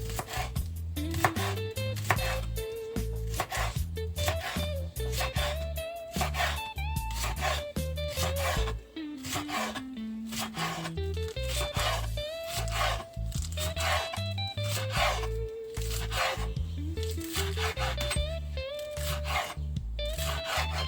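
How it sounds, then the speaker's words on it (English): A knife chops scallion and onion on a board in quick, steady rhythmic strokes, set under continuous background music. "I wash my scallion and my onion already, so I'm gonna cut them off."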